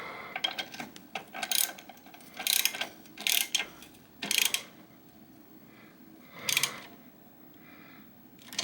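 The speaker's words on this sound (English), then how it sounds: "So I've got my socket wrench here with the universal joint on it. Tighten that down." Socket wrench fitted with a universal joint ratcheting as it tightens treadmill motor mounts on a Sole treadmill: several short bursts of close metallic clicking separated by pauses, fairly quiet.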